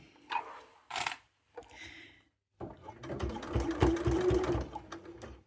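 A sewing machine stitches bias binding around an edge in short bursts with pauses, then runs in a steady, close, moderately loud whirring rattle.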